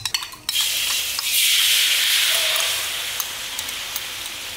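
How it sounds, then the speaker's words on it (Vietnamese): Sauce poured into a hot frying pan for a pork intestine dish, hissing into a loud, steady sizzle after a brief initial clatter, then settling slightly while continuing to spit and crackle. "bật bếp trở lại và các bạn cho nước sốt vào"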